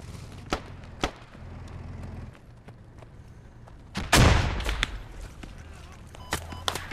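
Gunfire cracks in the tactical shooter Squad: scattered sharp reports near and far, with one loud close blast around the middle and a few quick shots near the end.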